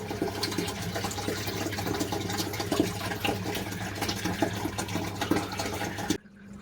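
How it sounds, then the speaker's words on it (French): Water fills a new Red Sea 200XL aquarium and its sump: a steady rushing, splashing flow that holds level throughout, then stops abruptly near the end. "Arrivé enfin au moment où l'aquarium est en eau."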